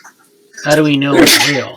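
A single loud sneeze bursts out midway through a stretch of speech, right up close, with voices talking around it.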